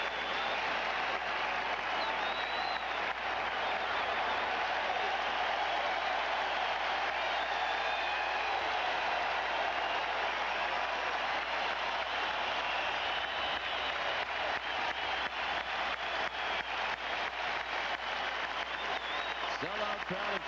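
A sellout baseball crowd at Fenway Park stands and applauds a strikeout, a dense, steady roar of clapping and cheering that fills the whole stretch without letup.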